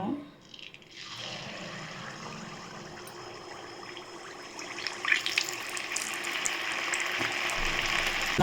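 Appam batter poured into hot oil for a Karthigai Deepam festival sweet, a steady broadband frying hiss rising and brightening after a quiet start, with bubbling crackle growing louder toward the end.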